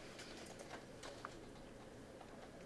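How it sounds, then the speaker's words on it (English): Typing on a computer keyboard during a Java programming lecture: a quiet, steady stream of light key clicks with an irregular rhythm and no talking, ending in one slightly louder tap. "But we're going to type it in anyways"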